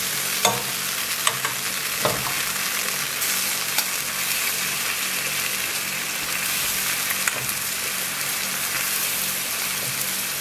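Liquid is stirred into sauce espagnole in a pan, producing a continuous bubbling sizzle with occasional spoon scrapes and taps, close and steady throughout with no voices.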